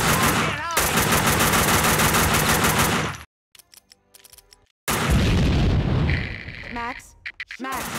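Rapid bursts of gunfire from the PC shooter Max Payne 2, loud automatic volleys with sharp impacts, a brief near-silent gap, then more shots mixed with shouting voices.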